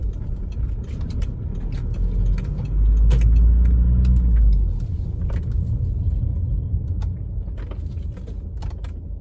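A repaired Audi car, its injector fault fixed, runs with a steady low engine rumble close by, swelling louder for a moment mid-clip before settling back to an even hum, with no talking.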